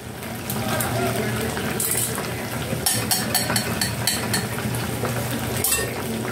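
Pork liver frying in a pan, giving a steady, loud sizzle with bright crackling spits throughout and occasional clinks of a utensil stirring, close up.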